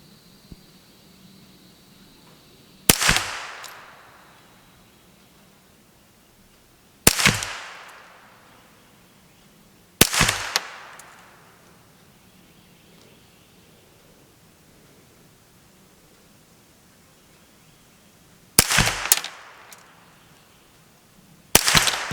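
Five sharp, loud Kidd 1022 rifle shots fired from a shooting bench, spaced several seconds apart, each a crisp crack followed by a short decaying echo over a quiet outdoor background.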